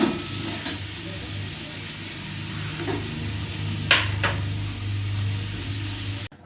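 Vegetable curry sizzles in a pan in a steady, even hiss, with a few brief clinks and scrapes of a utensil partway through, close by and with no talking.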